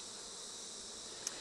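Honey bees at an open hive during a brood inspection give a faint, steady, high buzz with one brief click near the end. No voices.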